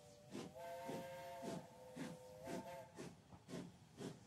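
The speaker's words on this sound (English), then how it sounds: "you feel the old but smooth locomotive stirring underneath you as it comes to life" An old steam locomotive comes to life, its whistle holding a steady tone while rhythmic chuffs of steam hiss out at regular intervals, fairly faint and unaccompanied.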